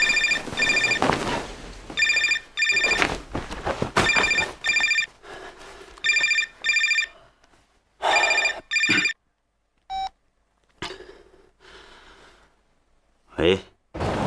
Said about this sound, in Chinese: 电话，接电话去